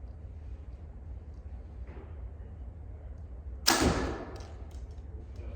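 Single arrow released from a Hoyt VTM compound bow: one sharp, loud thwack with a short decaying tail, close by, over faint outdoor background hiss.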